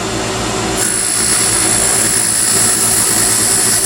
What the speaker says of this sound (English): I'm going to switch over to this little precision spindle gouge. Coming in at an angle, making a line